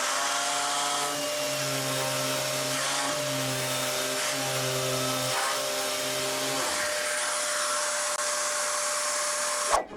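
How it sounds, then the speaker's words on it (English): A random orbital sander fitted with 60-grit paper works over a wooden cutting board, a loud continuous motor whine with tones that shift as pressure changes, ending in a brief knock. "I'll start with a coarse grit to level things out, 60 grit."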